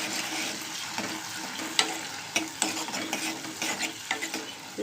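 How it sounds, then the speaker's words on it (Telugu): Chopped onion, green chilies and curry leaves frying in hot oil over mustard seeds and cumin, a bright steady sizzle with a spatula scraping and stirring through it. "నెక్స్ట్ మనం కట్ చేసి పెట్టుకున్న ఉల్లిపాయ, పచ్చిమిరపకాయ, కరివేపాకండి"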